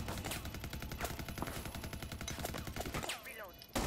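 Rapid automatic gunfire from Rainbow Six Siege pounds almost without pause, dense and loud, briefly thinning near the end before resuming.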